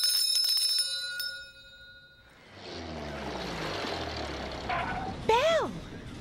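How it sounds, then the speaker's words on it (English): A bell rings several quick, bright, metallic strikes at the start, followed by a mix of whooshing effects and swooping tones in a lively cartoon soundtrack. "Bell."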